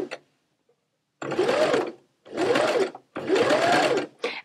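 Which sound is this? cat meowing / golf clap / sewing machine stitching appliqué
sewing machine stitching appliqué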